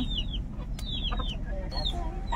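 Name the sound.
chickens clucking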